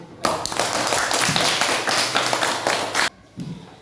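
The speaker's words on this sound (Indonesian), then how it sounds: "Kita tepuk tangan dulu." Pupils in a religious education classroom clap together in a dense, loud burst of rapid hand claps lasting about three seconds, then stop abruptly before a brief trailing clap.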